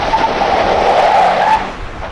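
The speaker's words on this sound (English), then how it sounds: "anytime tire squealing, that's good" 2021 Ford F-150 Platinum EcoBoost pickup doing a rear-wheel drive launch, tires squealing loudly in a sustained wavering screech for over a second, close by, then dropping off.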